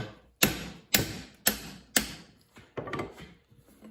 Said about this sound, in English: I've got my 7/8 wrench on that nut and my hammer.